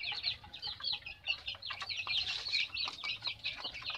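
Healthy, well-fed chickens cluck and chatter in a flock, a busy run of short, bright, overlapping calls at moderate distance that keeps going without pause.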